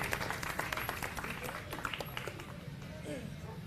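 Applause from a crowd welcoming Kailash Gahlot at a political rally in Shahpur Jat village, a steady patter of clapping throughout with a person talking over it.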